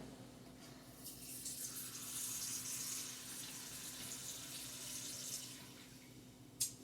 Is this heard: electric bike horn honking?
no